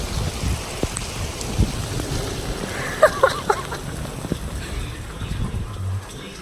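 Steady rain falls outdoors as a continuous, moderate hiss with scattered drips and a few brief louder clatters, with no voices.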